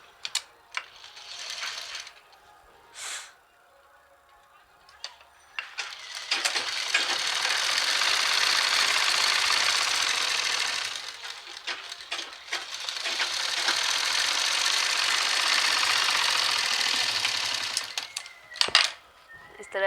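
A sewing machine stitches the sleeve of a Patiala suit in two long, steady whirring runs, each several seconds, with short clicks and handling noises before and after.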